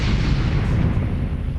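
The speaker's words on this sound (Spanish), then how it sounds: "La explosión había reventado el módulo de servicio" A spacecraft's service module blows apart in a sustained deep, roaring explosion. The heavy rumble holds steady and loud for the whole moment, with no voices over it.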